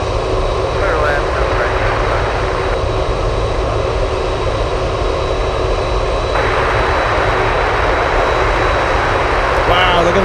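A Boeing 747 Dreamlifter landing on runway 7 right at Anchorage, a loud steady roar of jet engines filling the whole stretch, with radio and spoken voices over it.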